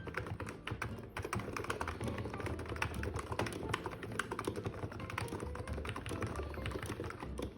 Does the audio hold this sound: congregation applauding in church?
no